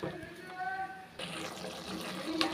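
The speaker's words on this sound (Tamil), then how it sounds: "கத்திரிக்காய் வேகிற அளவுக்கு தண்ணி சேர்த்துக்கலாம்" Water is poured into a pan of eggplant kootu to cook the eggplant, producing a brief, soft liquid splash and trickle at moderate distance that sits over a faint kitchen background.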